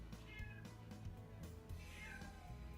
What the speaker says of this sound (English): Why is the cat crying?